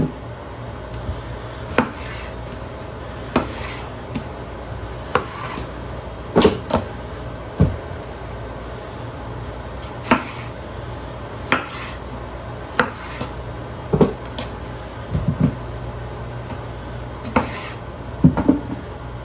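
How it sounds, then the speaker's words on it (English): Tomatoes being chopped on a cutting board before going into a roaster for homemade tomato paste: sharp, regular knife thunks with a steady kitchen hum between strokes, close and distinct, no talk. "So here all I'm doing is chopping up my tomatoes."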